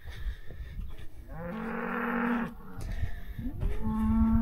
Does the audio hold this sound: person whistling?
no